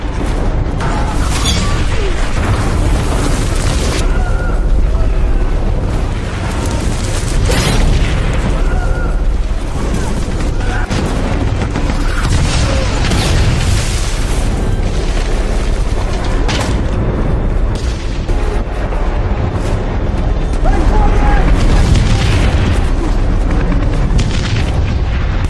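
Dense, continuous World War II battlefield din of booming artillery shell explosions, loud and layered, with repeated heavy impacts throughout.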